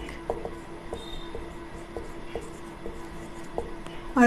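Pen or marker scratches out short strokes on a board during a biology lesson, faint rhythmic scribbles in quick bursts, with a brief squeaky stroke near the end and no other sound prominent.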